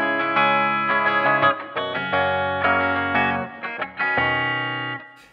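Electric guitar strings strummed with a plastic kitchen brush produce close, loud, mid-range pitched strokes in a quick rhythmic pattern, sustained and buzzy, with no speech.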